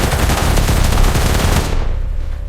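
Rapid, loud automatic gunfire in a police and army action drama, a dense unbroken burst of shots close by that cuts off sharply near the end.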